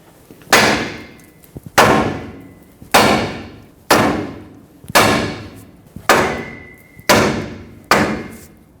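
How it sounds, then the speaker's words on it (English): Eight loud, evenly spaced metal hammer blows on a steering tie rod, struck to jar it loose from its stud on a 2011-2016 Ford F-350 front end, each ringing sharply then fading before the next. "now hammer right here, and that should break this tie rod free from the stud"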